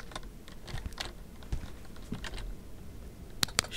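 Computer keyboard keys clicking during a horror game, a series of light, uneven taps of moderate loudness ending with two sharper, louder presses close together.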